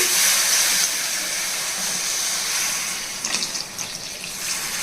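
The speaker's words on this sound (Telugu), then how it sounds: "వంకాయలు ఉడకాలి కదండి అందు గురించి ఒక రెండు గ్లాసుల వరకు నీళ్లు పోసాను" About two glasses of water pour into a hot pan of softened onions and stuffed brinjal with a rushing hiss and steamy sizzle that gradually settles, with a few faint clinks near the end.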